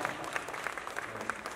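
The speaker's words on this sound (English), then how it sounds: "I think that deserves a louder round of applause" Audience applause at a motorcycle oil launch event, a steady dense patter of many hands clapping with no pause, fairly distant in a large room.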